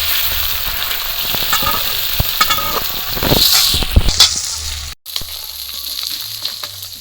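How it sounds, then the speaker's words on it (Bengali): Tilapia pieces frying loudly in hot oil in a pan hiss and crackle steadily, while scraping and knocking sounds come as the fish is turned and pressed down with a bowl. A brief dropout breaks the sizzle partway through. "মাছগুলো উল্টে পাল্টে ভালো করে বাটি দিয়ে এরকম একটু চাপ দিয়ে দিলে মাছ ভাজাটা কিন্তু খেতে বেশ ভালো লাগে"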